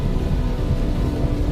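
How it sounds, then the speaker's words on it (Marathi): Heavy downpour at night on the Chandsaili mountain ghat, a dense, loud, steady roar of rain with no break and no voices. "मुसळधार पाऊस चालू झालेला आहे त्या घाटामधून"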